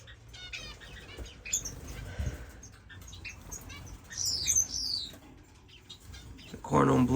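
Parrot finches chirp in a bird room, with bright high calls bursting out at moments over a busy background while a person talks nearby.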